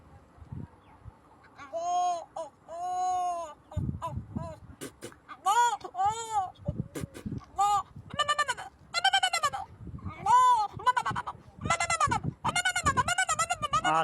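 A man imitates a goat, giving repeated wavering bleats close to the listener, with short pauses and a few spoken words between them.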